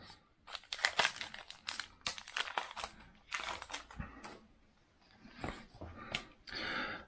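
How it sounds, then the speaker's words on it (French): A Pokémon Sword Rebel Clash booster pack is torn open at close range, with sharp bursts of crinkling foil and ripping wrapper in irregular clusters separated by brief pauses. "On va ouvrir ce dernier petit paquet."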